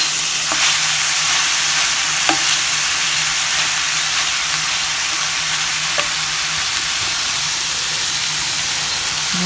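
Garlic sizzling in a pan over lowered heat, a steady bright hiss of frying with a few faint clicks of stirring, close and continuous with no voices.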